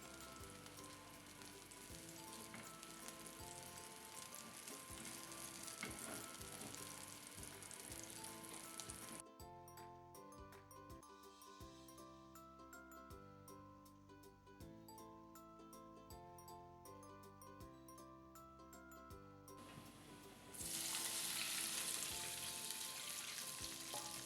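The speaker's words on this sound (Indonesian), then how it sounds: "Tumis bawang putih cincang" Minced garlic sautéing in a pan for a dipping sauce, a steady quiet sizzle and crackle throughout with soft music underneath.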